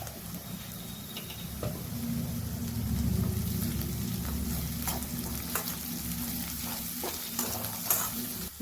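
Spices and turmeric powder fry in oil for a methi chicken curry, giving a steady, close sizzle with scattered crackles and a few clinks of stirring.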